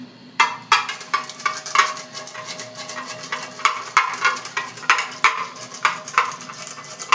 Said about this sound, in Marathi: कुकरमधली डाळ आहे ना आपण याने फेटून घेऊया